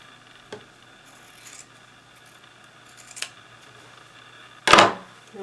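Scissors trim the seam allowance of a thick knit fabric, giving a few separate crisp snips and soft rubbing sounds at close range, the last cut loudest, with no talking.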